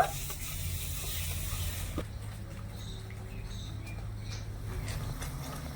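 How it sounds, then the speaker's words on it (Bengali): Sugar with ground cardamom and saffron being stirred in a pan as it melts, giving a faint sizzle and soft scraping of the spoon, steady and close, no voices. "ভালো করে নেড়ে ছেড়ে মিশিয়ে চিনিটা গলিয়ে নেব"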